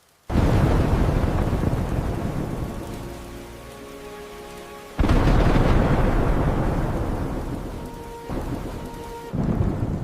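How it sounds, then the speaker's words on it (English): Heavy thunder rolls during a rainstorm, a loud, close rumble that decays slowly, then a second booming crack and a later third burst, all over a constant wash of falling rain. "The thunder is smaller now."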